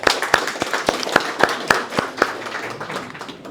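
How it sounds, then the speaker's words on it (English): An audience at a startup pitch session claps in a short, sparse round of applause, each clap sharp and distinct, fading toward the end. "But again, round of applause."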